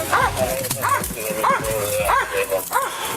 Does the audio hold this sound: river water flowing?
no